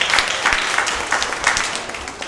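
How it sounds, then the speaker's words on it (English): An audience applauds at a community event in Harlem, a moderately loud wash of many hands clapping that gradually thins toward the end, with no speech. "Let's give a round of applause for coming up here."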